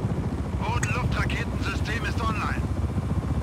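Helicopter in the video game Just Cause 4, a steady dense rotor and engine roar filling the whole clip at close range, with someone talking over it.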